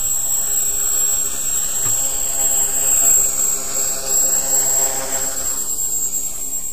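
A Walkera Master CP RC helicopter hovers in the wind, its rotor and motor giving a steady whine and hum that holds at an even level throughout with no talk.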